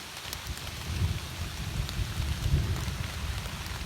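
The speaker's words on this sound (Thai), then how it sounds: "ฝนตกหนักมาก" Heavy rain pours down outdoors during mushroom foraging, a dense, steady hiss of drops striking the ground and foliage with low rumbles of thunder rolling beneath, fairly loud and uninterrupted.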